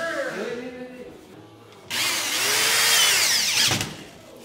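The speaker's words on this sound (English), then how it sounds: "Oh, he's drilling!" A power drill whirs loudly for a couple of seconds drilling into a wall, its motor pitch wavering as it bites into the surface, then winds down.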